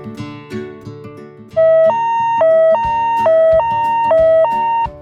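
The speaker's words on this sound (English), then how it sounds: "Fire truck." A fire truck siren in a children's vehicle-sounds lesson: loud alternating two-tone wail, high and low notes swapping about every half second, entering partway through and running to the end over a lower musical background.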